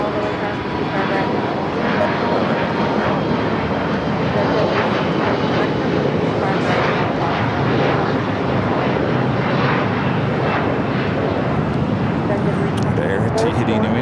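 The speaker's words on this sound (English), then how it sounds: "Air Tahiti Nui, the Dreamliner, now making that turn, heading in to the west gates." Air Tahiti Nui Boeing 787 Dreamliner taxiing and turning toward the west gates at LAX, a broad steady engine roar throughout with a voice talking over it.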